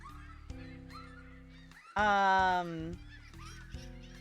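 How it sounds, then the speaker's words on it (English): Honking gull-like bird calls from a video game's ambience, a loud harsh cry rising over a steady layered musical drone, with softer calls before and after. "I still can hear the seagulls."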